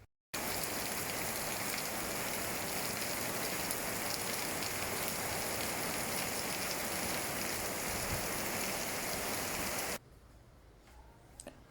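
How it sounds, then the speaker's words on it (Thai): Steady, dense rain pours down evenly for about ten seconds, then cuts off abruptly, leaving a faint quiet background. "ฝนตก"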